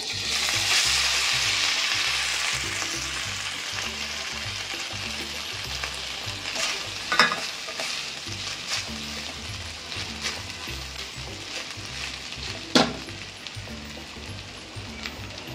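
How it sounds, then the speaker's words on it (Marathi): Loud, steady sizzling and frying as drained cooked rice is stirred into hot ghee in a pan, with occasional scraping stirs, no voices. "कढईमध्ये आता आपण तूप घेतलेला आहे आणि हा जो आपण भात पाणी नितळलं होतं तो आता त्याच्यात घालूया"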